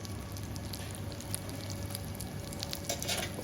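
Gnocchi frying and browning gently in a pan, a steady close sizzle with soft crackles and pops throughout, and no voices.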